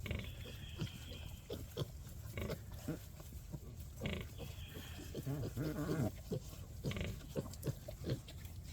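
Berkshire hogs and piglets grunt and snuffle steadily at close range, with sharp squeals and rustling scattered throughout and a brief voice in the background.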